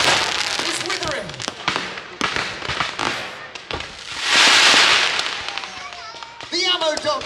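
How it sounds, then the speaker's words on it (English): Firework rockets in a staged naval battle show at Peasholm Park go off in a rapid barrage of sharp bangs and crackles, with one long fizzing whoosh; a commentator's voice announces over the explosions and crowd noise. "the rocket attack from the British cruisers is withering"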